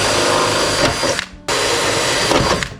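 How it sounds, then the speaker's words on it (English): A power tool drives pop rivets into a fan shroud on a radiator during a super truck repair. It whirs loud and close in two continuous bursts separated by a brief pause. "I might throw a couple pop rivets in this just because."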